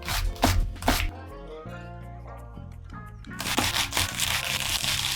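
Kitchen knife chopping vegetables on a cutting board, several quick sharp cuts near the start and a busier run of chopping at the end, with a quieter gap between, close and fairly loud.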